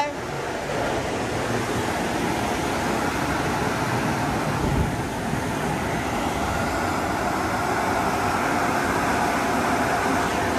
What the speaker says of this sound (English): So the dryer is going to start.